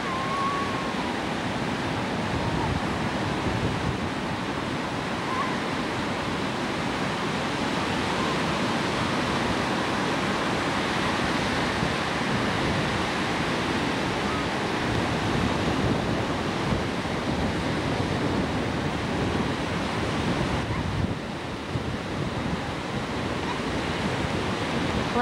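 Ocean surf rolling onto the beach at Fort Fisher, North Carolina, a steady, loud wash of breaking waves with wind, continuous and unbroken throughout, with no voices.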